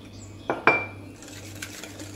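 Metal utensil clinking against a bowl while sugar, eggs and flour are mixed, two sharp clatters close together followed by quieter scraping, with no talking.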